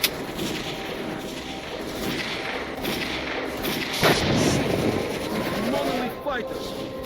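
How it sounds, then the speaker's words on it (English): Heavy gunfire and booming blasts rumble continuously in the S.T.A.L.K.E.R. Call of Pripyat shooter game, a dense, loud barrage with a sharper crack partway through and no voices heard. "we're taking heavy fire from an unidentified enemy"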